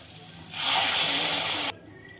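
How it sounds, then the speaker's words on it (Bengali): Water poured into a hot pan of frying potato and green banana curry bursts into a loud, close hiss that holds steady for about a second before cutting off sharply. "এবার জল দিয়ে দেবো।"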